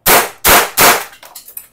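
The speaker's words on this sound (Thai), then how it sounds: "มาทดสอบปืนแบงก์กันครับ" A Tokarev TT-33 replica blank pistol fires three loud, sharp shots in quick succession, close by, followed by faint metallic clatter and handling noises with no talking.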